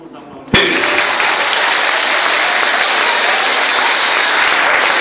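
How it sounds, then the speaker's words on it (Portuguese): Wedding guests at a church ceremony break into loud, sustained applause right after the couple's kiss, a dense wash of clapping that starts abruptly and holds steady throughout. "Vamos aplaudir."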